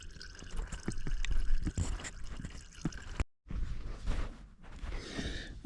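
Engine oil drains from a Kawasaki KLX300 motorcycle during its 600-mile service, a close, irregular dribbling and splashing of liquid with a brief break partway through.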